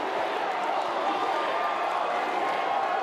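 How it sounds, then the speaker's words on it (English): A packed live wrestling crowd at an Adelaide entertainment centre roars in a steady, dense wash of cheering and noise that holds at full loudness for the whole stretch, with no single voice standing out. "Just listen to this crowd here tonight!"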